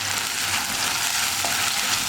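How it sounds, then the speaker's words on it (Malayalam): Ginger garlic paste sizzles steadily in a clay pot while being stirred, a loud continuous frying hiss close by with no talking. "ഇനി ജിഞ്ചർ ഗാർലിക് പേസ്റ്റ് ഒന്ന് കുക്കായി വരുന്നത് വരെ 1 മിനിറ്റ് ഒന്ന് ഇളക്കി കൊടുക്കുക"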